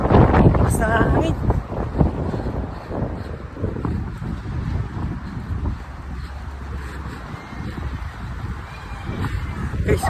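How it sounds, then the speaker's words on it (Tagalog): Strong Philippine wind roars and buffets the microphone throughout, a loud steady rush with gusty surges and no clear pauses. "Basta hangin."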